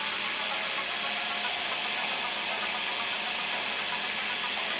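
A Tyco 440 HO slot car chassis spins on a dyno right beside the microphone, giving a loud, constant high-pitched whine and buzz with no letup.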